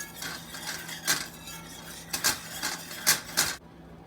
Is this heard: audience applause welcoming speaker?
no